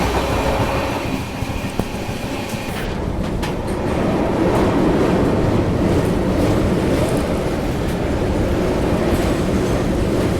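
A Duronto Express train rolls slowly through Naini Junction, a steady close rumble of wheels on rail with rhythmic clickety-clack and faint metallic squeals, continuous and fairly loud.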